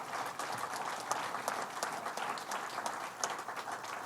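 Audience applause at an event announcing the IndyCar Grand Prix's return to Watkins Glen, a steady wash of many hands clapping at moderate distance with scattered sharper claps, sustained throughout.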